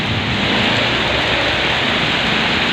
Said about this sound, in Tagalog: Nabutan ako ng ulan.